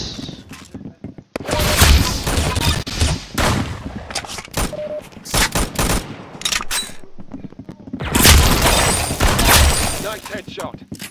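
Bursts of rapid automatic gunfire and single shots in a Roblox shooting game, loud and close, in several clusters separated by brief gaps, with players talking over the action.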